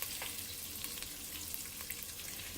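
Diced garlic sizzles in melted fat in a hot soup pot, a steady dense frying crackle with faint stirring, close and continuous, no voices.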